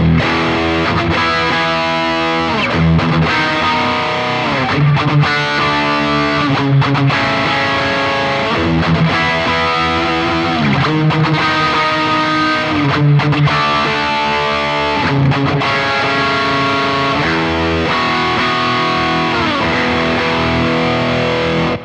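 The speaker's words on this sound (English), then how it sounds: "Let me just demonstrate that by sort of chugging some chords." An electric guitar chugs heavy palm-muted chords through overdrive pedals at high gain, running into a Boss GT1000, in a steady, loud, dense rhythm for the whole stretch with brief gaps between phrases.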